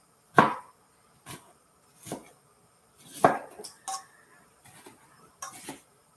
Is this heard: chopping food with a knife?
yes